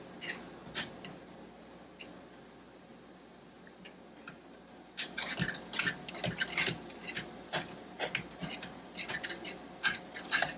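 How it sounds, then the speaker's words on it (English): Elderberry jam mixture with sugar and pectin being stirred quickly at a full boil, with rapid clinking and scraping ticks of a spoon against the pot that grow busier and louder partway through, close by with no talk. "you want to stir this very quickly"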